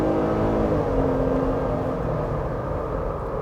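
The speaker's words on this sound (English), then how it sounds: "let me let you hear the engine" A 2020 Jeep Gladiator pickup's engine gives a steady, loud drone with a low rumble and a brief rising whine, heard up close with no talking.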